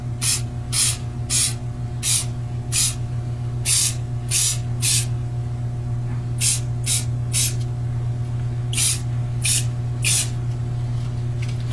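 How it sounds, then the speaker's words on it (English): Clear coat is sprayed onto wooden kaleidoscope parts in a series of short aerosol bursts, about fifteen sharp hissing puffs at an uneven rhythm, close and loud over a steady low electrical hum. "In my case I'm going to give it a couple little spray of clear."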